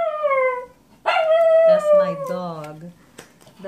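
A Chihuahua howling close by: a long falling howl, then a louder drawn-out wavering howl that slides downward, with brief sharper yelps near the end.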